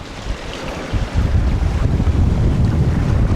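Sailboat Mingming II sailing on a beam reach, heavy wind buffeting and rushing water around the hull, a dense low roar that swells after the first second and stays loud and steady.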